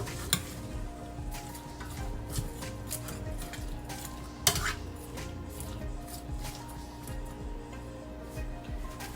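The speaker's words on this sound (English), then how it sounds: "Now I'm just going to get my handy dandy spoon and mix all of this up." A spoon stirs ingredients in a pot for escovitch sauce, steady scraping and swishing with occasional sharp clinks against the metal, alongside a faint sizzle and a low background hum.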